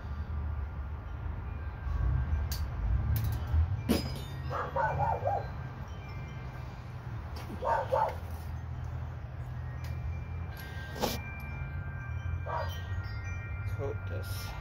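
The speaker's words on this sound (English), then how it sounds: "Sorry about the neighbor's dog." A neighbor's dog barks a few times at a distance, short bursts at irregular intervals, faint under a steady low hum in a workshop.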